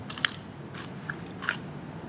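Crunchy fried food with Lombok chilli at a Padang restaurant in Bali bitten several times, sharp crisp cracks at about a quarter, three quarters and one and a half seconds, close and fairly quiet over a low room hum.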